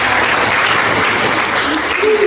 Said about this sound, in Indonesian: terima kasih tepuk tangan buat Mbak Indah